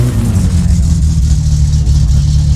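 An SR20-swapped Nissan Almera in the video game My Summer Car holds a loud, steady engine drone with a deep rumbling low end, sustained throughout without pause.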